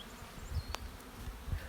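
Honeybees hum and drone faintly around a hive as it is closed up after a mated queen is introduced, a soft steady buzz with a few low knocks and bumps nearby.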